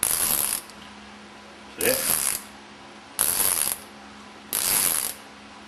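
A ratchet wrench works a heavily corroded bolt on a Meyer E 47 snowplow pump, four bursts of quick close clicking separated by short pauses, with one brief spoken word.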